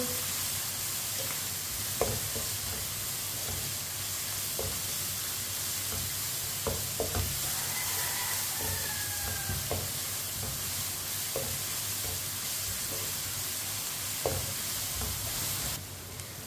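Finely chopped onion and crushed garlic fry in a pan, a steady close sizzle running throughout with scattered light clinks and scrapes of stirring.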